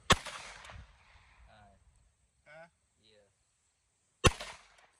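Two sharp, loud gunshots from a Grand Power Stribog and Sig MPX shoot-off at an outdoor range, one at the start and one near the end, with faint voices talking in between.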